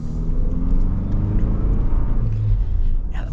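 A four-cylinder Toyota Land Cruiser engine pulls under acceleration, a steady low rumble heard from the cabin with a slight rise in pitch toward the end.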